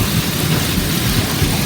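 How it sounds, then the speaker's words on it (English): An intense hailstorm with heavy rain batters a home in Florida, a dense, loud, continuous roar of drumming and rushing with no pauses, close and alone without voices. "Kathy HUEBNER set the phone cam rolling when she heard this intense storm whipping up around her home in the Atlantic"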